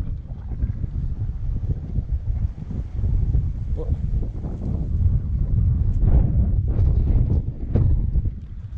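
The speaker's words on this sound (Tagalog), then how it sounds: "ang ihip ng hangin" Strong wind roars and buffets the microphone in a steady, heavy rumble that never lets up, outdoors at a park.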